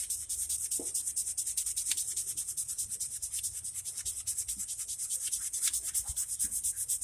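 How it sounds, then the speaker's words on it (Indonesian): A toothbrush scrubs back and forth over a soapy kris blade, a soft, steady, close rubbing rhythm with brief scratchy strokes and no talk. "Kemudian kita gosok menggunakan sikat gigi yang telah kita siapkan tadi."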